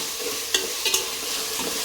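Mixed vegetables for a vegetable biryani fry in a pan with a steady sizzle and a few sharp stirring clinks. Close and brief, with no voices.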